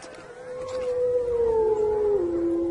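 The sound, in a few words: wolves howling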